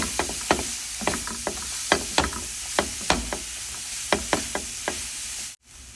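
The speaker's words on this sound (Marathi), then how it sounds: "यात आपण आता हा किसलेला भोपळा घालूया हे आपण परतून घेऊया" Grated pumpkin is sautéed with curry leaves in a pan: a soft sizzle runs under regular, sharp scraping taps of a spatula stirring, close and fairly quiet, then it cuts off abruptly near the end.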